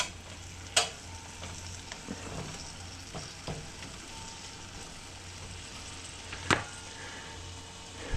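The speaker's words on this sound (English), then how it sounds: "Give it a stir." Reconstituted freeze-dried chicken and eggs being stirred in a pan, with a soft steady sizzle and scraping under it and two sharp utensil clinks against the pan.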